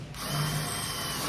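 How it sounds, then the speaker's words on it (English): A power drill boring a hole through the hull of a fishing boat, a steady loud whine held close throughout. "With that hole drilled,"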